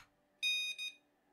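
A short electronic wireless home alarm, triggered over 433 MHz from a Raspberry Pi, beeps twice in quick succession, bright and shrill, in an otherwise quiet room.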